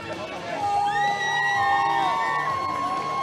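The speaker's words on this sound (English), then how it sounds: "Screaming girls in the background" High-pitched screams from girls in the crowd at a bare-knuckle boxing show in Thailand, sustained shrill shrieks rising above general crowd noise, with other voices and talk mixed in.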